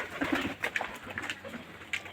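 Domestic pigeons, including a pair of black-and-white young birds, give a few soft, low coos close by, murmuring gently through a short stretch with no talk.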